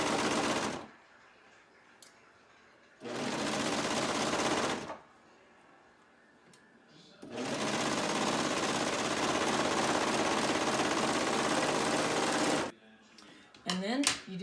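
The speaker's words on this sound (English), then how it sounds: "So now I'm just gonna stitch the bottom edge of that pocket." A sewing machine stitches the bottom edge of a skirt pocket in three loud, rapid runs: a short one, a medium one and a long one, separated by quiet pauses. A few handling noises follow at the end.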